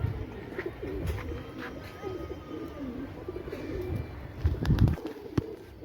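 Pigeons coo softly nearby at a rooftop pigeon house, low repeated throaty calls over faint background noise, with a few clicks and a flutter toward the end.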